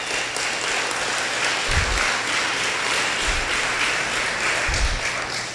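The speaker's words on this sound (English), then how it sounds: "Can we give St. David's a round of applause for their contribution to our community?" Audience applause for St. David's at the 2023 City of Kyle State of the City event, a steady broadband wash of clapping from a large room holding level throughout, with low thumps underneath.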